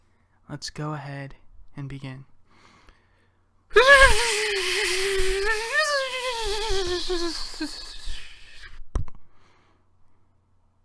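A voice imitates a deflating balloon flying around a room, a long wavering squeal with rising and falling pitch lasting about five seconds, preceded by brief speech.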